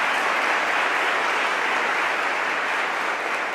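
An audience at a Holy Week proclamation event claps continuously, a dense, even wash of applause that stays loud from start to finish with no voices on top.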